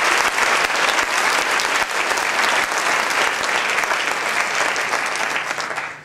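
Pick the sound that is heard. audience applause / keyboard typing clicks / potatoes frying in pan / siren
audience applause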